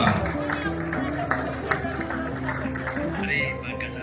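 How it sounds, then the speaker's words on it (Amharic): Audience at an Ethiopian award ceremony for the Emperor Fasilides memorial gold medal breaking into trilling ululation and clapping, a busy, sustained mix of warbling voices and hands that stays lively for a few seconds. "እልልታና ጭብጨባ።"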